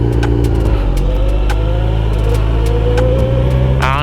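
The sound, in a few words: motorcycle engine starting up hesitantly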